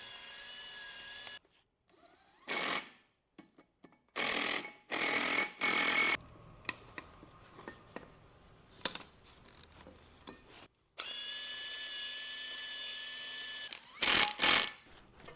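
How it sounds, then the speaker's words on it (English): Brake caliper parts on a BMW E46 spun against a Scotch-Brite wheel, giving several bursts of loud abrasive whirring and grinding, each a second or two long, separated by quieter shop noise and one longer steady run near the end. "Spin them on some Scotch-Brite."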